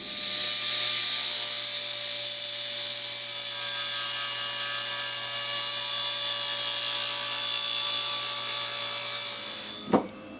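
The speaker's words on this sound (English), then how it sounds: "let's rip it for a little bit narrower so it doesn't interfere with these holes here" A power saw rips a wooden board narrower for a bench build, with a loud, steady high-pitched whine and cutting hiss for about nine seconds, then a short clunk as the cut ends and the blade spins down.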